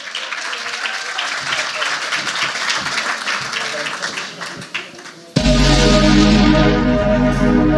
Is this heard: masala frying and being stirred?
no